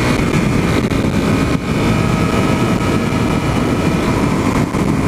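A dirt bike or dual-sport motorcycle on a desert ride near Pioneertown and Yucca Valley, its engine droning loudly and steadily with dense low rumble and wind throughout, with one brief dip as the rider shifts gear.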